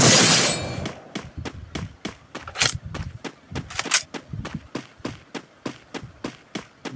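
Gunfire in the Free Fire video game starts with a loud burst, then continues as a long string of evenly spaced, punchy shots at a quick, steady rhythm, close and fairly loud.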